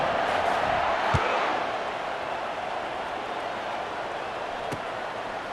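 Stadium crowd at a Miami vs Alabama college football game, a steady broad roar of many voices right after a touchdown, loud and continuous with a brief sharp thump early on.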